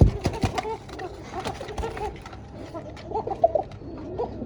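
Pigeons cooing at a breeding farm, a male calling repeatedly in deep throaty coos, close and fairly loud, with faint talk and clatter in the background.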